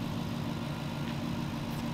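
A Toyota 1UZ V8 in a Nissan S14 drift car, fitted with a shotgun-style exhaust, gives off a steady, loud, dense rumble as it spools off, with no voices.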